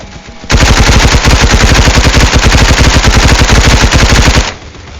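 Rapid automatic gunfire in the Roblox shooter Hypershot, a loud, unbroken burst of evenly spaced shots lasting about four seconds before cutting off.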